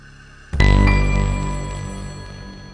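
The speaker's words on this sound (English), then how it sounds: "So you can hear the phone ringing in the room." A telephone rings in a room of an escape-room video game, a single sudden loud bell-like ring with bright sustained metallic tones that slowly decay over a couple of seconds.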